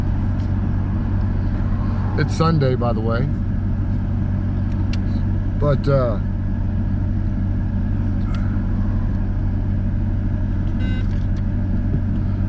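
Steady road traffic around a moving vehicle in heavy traffic, a constant low engine and tyre rumble filling the whole stretch, with someone speaking briefly over it and faint beeps near the end.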